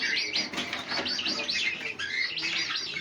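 Pet birds in a home collection chirp and tweet in quick, continuous bursts, close and fairly loud, with several birds overlapping and no voices.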